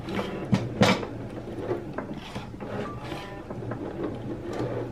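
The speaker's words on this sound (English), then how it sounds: "Then the Cricut will start engraving." A Cricut machine engraves an acrylic bookmark, giving off a steady mechanical whir and hum with rhythmic clicks and carriage movements, moderately loud and continuous throughout.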